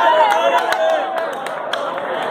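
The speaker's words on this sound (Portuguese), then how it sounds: "eu vim aqui pra fora porque tem torcida haitiana aqui" Haitian football supporters cheer and chant outside during a Copinha youth match against Goiás, a loud, sustained crowd roar with rhythmic voiced chanting and scattered sharp claps or shouts close by.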